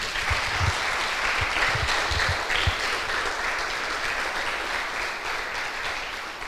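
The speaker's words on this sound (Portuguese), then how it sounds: "Você pode se levantar e aplaudir Jesus aí com toda alegria." A church congregation stands and claps joyfully during a worship service, a steady wash of many hands clapping throughout, with a few low thumps mixed in.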